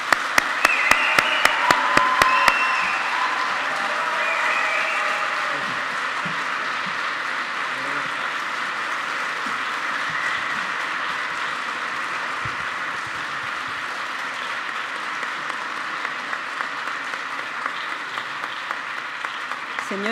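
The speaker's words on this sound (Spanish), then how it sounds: "Un fuerte y cariñoso aplauso a doña Verónica Conejo" Audience applause at a university ceremony marking an Erasmus programme anniversary, a sustained crowd clapping that starts with a few distinct claps, swells and holds steady, then fades out near the end.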